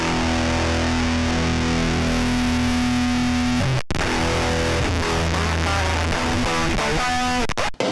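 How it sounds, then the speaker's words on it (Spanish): Electric guitar played through a heavy Erosion distortion plugin in a sound design, loud and saturated throughout, with sustained fuzzy chords and the notes smeared together. "Aquí es pura pinche distorsión."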